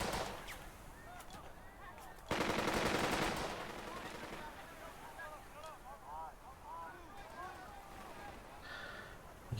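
Machine gun fire in the WWII tactics game Burden of Command, with a loud dense burst of rapid shots followed by steadier background gunfire and battle noise, while someone talks over it.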